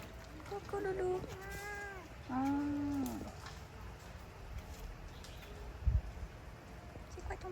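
A cat gives several drawn-out meows at close range, some rising and falling in pitch, followed by a brief low thump near the end, with no other voices.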